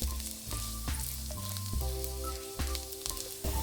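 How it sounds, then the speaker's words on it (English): Garlic fries in olive oil in a big frying pan, giving a continuous close sizzle with crackling pops and some stirring clinks. "Add some olive oil and fry the garlic until fragrant."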